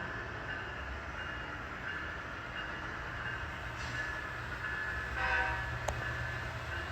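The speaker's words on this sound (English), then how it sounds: "As the train passes alongside another train." The Blunami locomotive at the Rosenberg Railroad Museum rumbles steadily nearby, passing alongside another train, with a brief horn toot rising over the low rolling noise toward the end.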